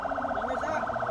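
An ambulance siren wails steadily nearby, its rising and falling tone continuous and loud, carrying a patient through a blocked road in the Philippines.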